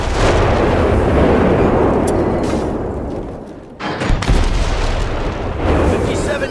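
Artillery barrage in Company of Heroes 3, a dense rumbling wall of shell impacts and booms rolling on throughout, with a brief dip before the blasts resume.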